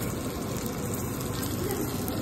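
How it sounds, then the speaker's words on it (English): Fried momo sizzling loudly in hot oil, a dense steady crackling hiss that stays close and unbroken for a couple of seconds. "fried momo sizzle"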